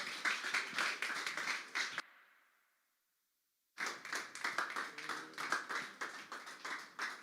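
A church congregation claps to welcome the preacher at a Tuesday worship service, with rhythmic group clapping that is cut by a silent gap in the middle and then resumes.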